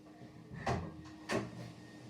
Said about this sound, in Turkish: Ondan sonra kapıyı açabilirim